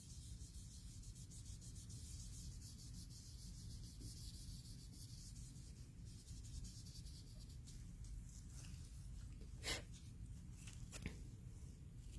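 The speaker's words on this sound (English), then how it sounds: "When I say chrome it, we're basically rubbing until it's high shine." A fingertip rubs metallic powder onto a painted rock to polish it to a high shine, giving a faint, continuous close-up scratchy rubbing with a few brief louder scrapes near the end.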